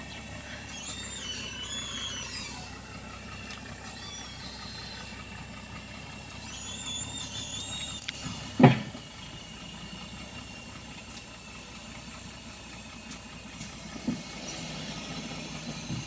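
A dump truck pulls a bucket loaded with palm fruits, its engine holding a steady, moderately distant idling rumble throughout, broken by one sharp metallic clank midway and a smaller knock later.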